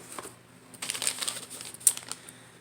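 Aluminum foil handled in a series of crisp crinkles and crackles, with a louder rustling burst in the middle and a sharp crackle near the end, close and fairly quiet.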